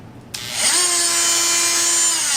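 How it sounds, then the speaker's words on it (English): A Dremel MM50 Multi-Max oscillating tool switches on with a click and instantly spins up to a loud, steady high-pitched buzzing whine that holds for the rest of the short moment, close up and alone. "with the Dremel, you just kind of start"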